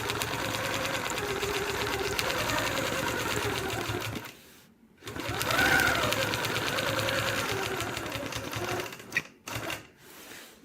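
Sewing machine quilting the elements within a quilt block, a fast, even mechanical chatter running steadily, pausing briefly, then resuming before a few short stop-start bursts at the end.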